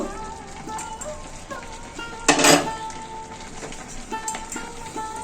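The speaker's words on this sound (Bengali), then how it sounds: "পাঁচ মিনিট হয়ে গেল ঢাকাটা খুলে দেব" A lid comes off a cooking pot of simmering food with a sharp metallic clatter midway through, amid soft background bubbling and small clinks of utensils.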